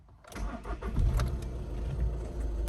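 An R56 Mini Cooper S engine cranks and catches on the first try, then settles into a steady, low idle close by.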